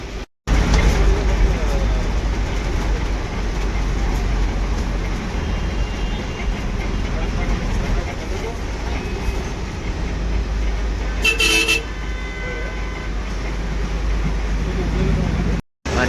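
An NWKRTC ordinary Tata BS6 interstate bus drives on the Pune to Hubballi route with a loud, steady engine and road rumble, a short horn blast near the end, and passengers' voices faintly under the noise.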